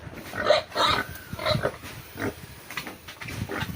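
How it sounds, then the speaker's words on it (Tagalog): Pigs in pens on a small pig farm grunt and squeal in short irregular bursts after being hosed down, several close calls spaced a second or so apart over a low background hum. "kanina pa tayo napapaligo na sa ating mga lagang baboy"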